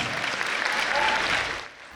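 Audience applause fills the stands at the Universiade 2026 opening ceremony, a steady broad wash of many hands clapping that tapers slightly near the end.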